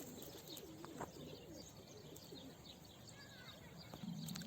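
Pigeons or doves cooing and small birds chirping outdoors near a walnut tree, soft and distant calls scattered over a faint background hush, with no talking.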